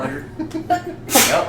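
A single sharp sneeze bursts out near the end, close and loud, following brief talk among tabletop game players.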